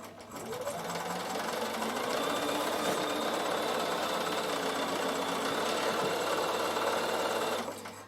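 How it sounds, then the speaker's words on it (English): A Bernina sewing machine runs a steady straight stitch across wool applique, its motor and needle whirring continuously for several seconds at close range, starting and stopping cleanly with no talking. "I think I'm just going to use a straight stitch and just show you"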